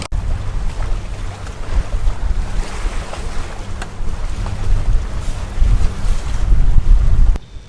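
Strong wind buffets a sailboat at sea off Messina, blasting steadily against the microphone with rushing waves and hull noise underneath, loud and continuous before stopping abruptly at the end.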